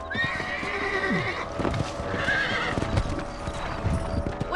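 Horses in the Red Dead Redemption video game gallop with rapid clip-clopping hooves, a couple of loud whinnies and snorts rising over them, close up, under a faint background music drone, with no speech.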